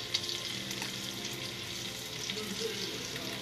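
A small piece of butter, about a tablespoon, sizzles with oil in a frying pan, a dense continuous crackle that holds steady and fairly quiet throughout, with no voices.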